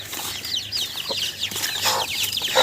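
A hen clucking softly in short, irregular bursts, with faint high cheeps of chicks scattered throughout, close by.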